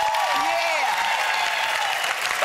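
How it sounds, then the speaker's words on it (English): Studio audience applauding on a daytime TV talk show set, a steady wash of clapping held at even loudness for the whole stretch, with a voice faintly audible underneath. "Clap for that."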